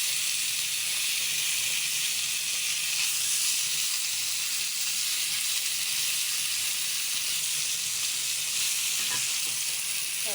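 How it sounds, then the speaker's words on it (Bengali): Katla fish pieces fry in a pan until reddish, giving off a loud, steady, dense sizzle that holds evenly throughout, with no talking. "লাল লাল করে ভেজে নিচ্ছি।"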